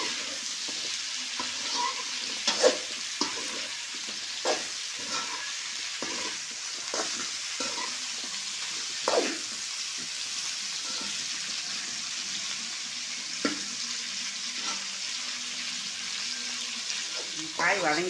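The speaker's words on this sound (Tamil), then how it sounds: "காய் கொஞ்ச நேரம் எண்ணெயிலே வதங்கட்டும்" Bitter gourd sautés in oil with a low, steady sizzle across the whole stretch, punctuated by many sharp spatula scrapes and taps at irregular intervals, close up with no talk.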